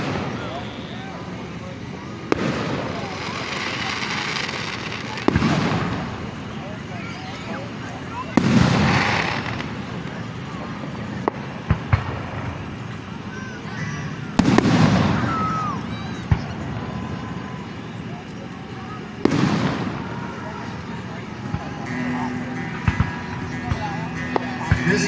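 A July 3, 2025 fireworks display in Montgomery, Pennsylvania: loud booming shells burst every few seconds, each trailed by crackling, with a steady murmur of background noise between blasts.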